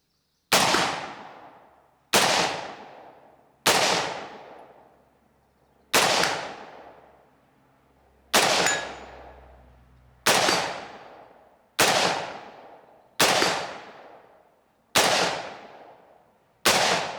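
Kel Tec SU16 rifle firing ten loud, sharp shots at a steady pace of roughly one every one and a half to two seconds, each with a decaying outdoor echo, with no voices.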